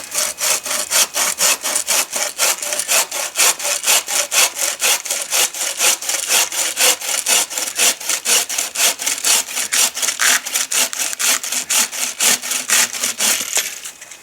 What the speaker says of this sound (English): So we'll try the Bucksaw out and see how she works.